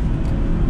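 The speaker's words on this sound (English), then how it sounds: "listen to that roaring V8" Jaguar V8 engine in a cheap, broken older Jag revving hard as it accelerates in second gear, a steady, loud, close low rumble throughout with no talk.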